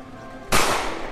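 A single loud, sharp gunshot from a gun in a SpongeBob SquarePants game bursts out of a steady background hum and decays over about half a second.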